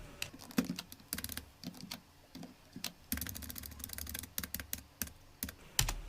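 Keys clatter on a computer keyboard during data entry in Tally Prime accounting software: irregular bursts of sharp, close clicks with short pauses between runs, and no voices.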